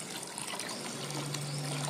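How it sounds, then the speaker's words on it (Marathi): Water pouring into a warm copper sulphate solution turned green in a container, a steady, close liquid trickle and fill sound running continuously without a break. "थोडंसं पाणी परत ॲड करत आहे याच्यामध्ये"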